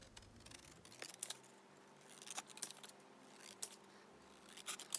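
Scissors trimming the white border from a small paper bird picture, a series of quiet, crisp snips and blade clicks spaced irregularly over a faint low hum.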